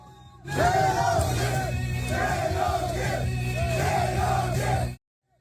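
Crowd at an election campaign launch rally cheering and rhythmically chanting a candidate's name, loud massed voices rising and falling in repeated shouts for several seconds before cutting off abruptly.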